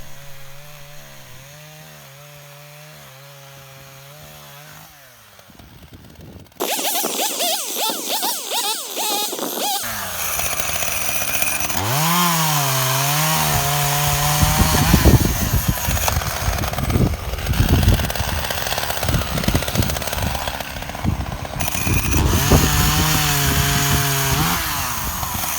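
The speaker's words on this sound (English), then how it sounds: "even this low powered chainsaw, it gets the job done and it cuts through the stump nicely" A low-powered Makita DCS340 chainsaw idles with a steady drone, then roars loudly as it bites into a hawthorn tree stump, revving up and down in long sustained cuts.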